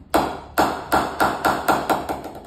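A Kookaburra English willow cricket bat tapped eight times in a steady rhythm, each sharp knock ringing briefly with a bright, resonant tone, close and clear with no talking.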